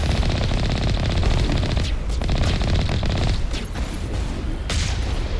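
Dense automatic gunfire in Mass Effect rattles loud and continuous, a rapid fusillade of shots with a few sharper cracks and booms cutting through the sustained barrage.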